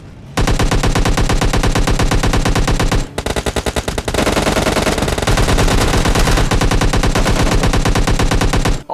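Video game gunfire as several shooters open fire at once, dense rapid bursts of automatic weapons, loud and continuous with a short break after three seconds before the barrage resumes.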